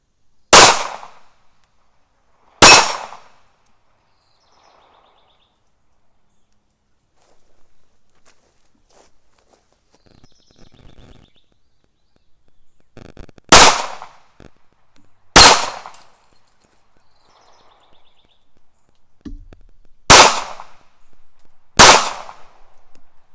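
Ruger LCP Max pistol fired at steel targets outdoors, six sharp, loud shots in two spaced pairs with long quiet gaps between, each crack ringing briefly off the steel, with faint handling noise in between.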